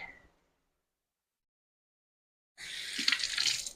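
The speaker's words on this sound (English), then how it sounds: "I'm just going to rinse this out really quickly so we can add our garlic" Water runs from a kitchen tap as a container is rinsed out, a splashy gush starting partway through after near silence, fairly close and steady to the end.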